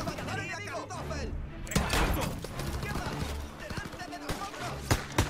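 Call of Duty WWII game combat with scattered gunshots and impacts, some sharp close bangs, mixed with a voice talking over the action.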